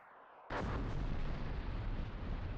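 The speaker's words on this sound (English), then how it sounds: "I believe that is artillery fire" Artillery fire in the tank-combat game Armored Brigade 2 erupts after a quiet half second into a loud, sustained rumbling barrage of blasts that rolls on without pause.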